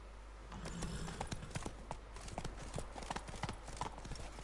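Geralt's horse Roach galloping in The Witcher III: Blood and Wine, quick rhythmic hoofbeats clopping steadily and close throughout over a low game rumble.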